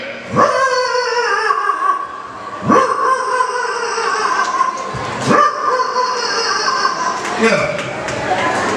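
A person imitates a common local dog, giving four loud, drawn-out howling barks with pauses between them, close up.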